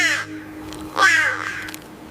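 Two harsh caws from a crow ring out close and loud, one short and one longer, with no other sound around them.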